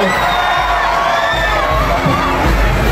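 Large festival crowd at the Obando dance celebration shouting and cheering together, a loud, continuous roar of many voices with children's cries mixed in throughout.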